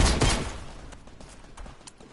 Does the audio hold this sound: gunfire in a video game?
yes